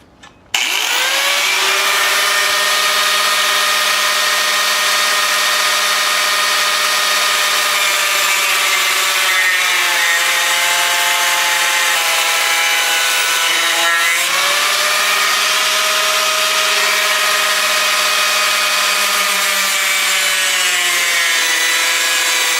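An angle grinder grinds metal on a Suzuki GS550 cafe racer, starting abruptly and then holding a loud, continuous high whine for over twenty seconds, dipping briefly as the load changes.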